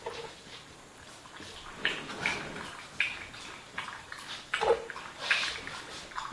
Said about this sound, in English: And there's Tilly getting a drink of water in case you're wondering what that noise is.